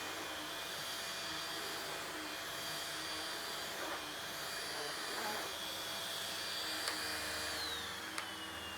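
Henry Quick corded vacuum cleaner running on its higher setting, a steady smooth whir with a faint high whine that shifts slightly near the end, fairly quiet and continuous, with no voice over it.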